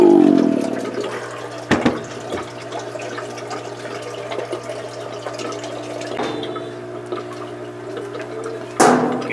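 Water drains out of a fish tank in a continuous rushing, gurgling flow, loud at first and then settling into a steady stream. Occasional splashes and knocks break through, with a sharper surge at the end.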